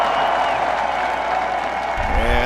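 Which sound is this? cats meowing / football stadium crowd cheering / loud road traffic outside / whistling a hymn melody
football stadium crowd cheering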